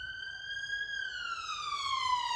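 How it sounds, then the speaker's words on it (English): An ambulance siren passes by, one long clear wail that rises and then slowly falls in pitch as it moves away, heard alone at a moderate distance. "Sorry about that ambulance."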